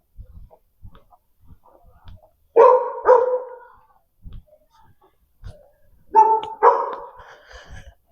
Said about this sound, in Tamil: நாயெல்லாம் நம்மளை சுற்றி வளைச்சிருச்சு.